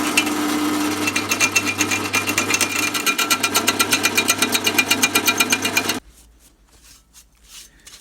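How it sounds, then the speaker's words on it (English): A power drill drives a 6.5mm tap into a rusty steel axle back plate on a 1973 Foden S80 lorry, rattling in a fast, loud, steady judder that stops abruptly, leaving faint workshop clatter. "I'm going to see if I can just drive him straight in and chase him with a tap."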